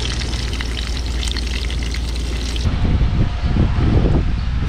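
Thinly sliced liver frying in a pan gives a loud, steady crackling sizzle, shifting partway through into a lower, bubbling spatter.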